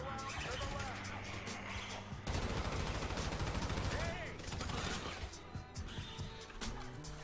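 Machine gun fire rattles steadily in Grand Theft Auto V, a dense, continuous stream of shots layered over vehicle and street noise, with a voice talking throughout.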